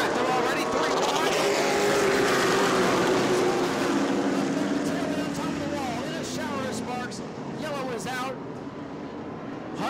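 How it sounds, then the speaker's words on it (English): Stock cars race at night at the New Smyrna World Series, with several cars running three wide: a loud, continuous engine roar with whining pitch sweeps as cars pass close by, under a commentator's excited talk. "Hayden Mowry drifts up the track. They're already 3 wide."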